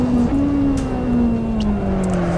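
A Ferrari 458 engine lapping Imola in the racing game Assetto Corsa, a steady loud drone whose pitch rises slowly and evenly throughout, alone with no talk.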